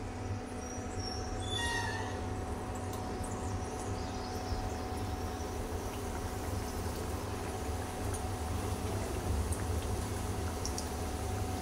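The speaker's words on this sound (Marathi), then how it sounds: "असेच आपण 2-3 समोसे करून तळून घेऊया." Samosas deep-frying in a pan of hot oil give a steady, dense bubbling hiss that runs unbroken and close for the whole stretch, with a faint low hum beneath it.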